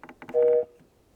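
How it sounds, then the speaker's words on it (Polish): Brief shuffling sounds, then a Hisense Party Rocker One speaker at maximum volume gives a single loud, steady horn-like electronic beep lasting about a quarter second before cutting off. "ten dźwięk, który słyszycie, taki klakson"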